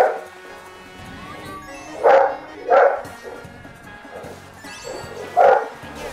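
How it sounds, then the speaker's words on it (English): A dog barks in a home during a Mario Kart 8 Deluxe gameplay stream: three loud, sharp barks at irregular intervals over quiet background game sound. "Tip, can we have a good stream without this dog barking?"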